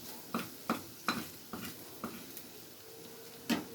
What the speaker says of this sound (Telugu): కలుపుకొని ఇప్పుడు టమాటా ముక్కలు వేసేద్దాం ఫ్రెండ్స్.